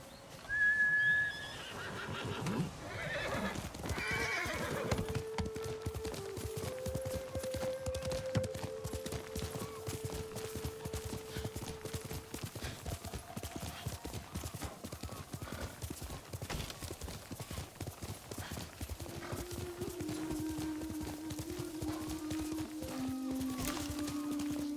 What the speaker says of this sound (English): Donkeys.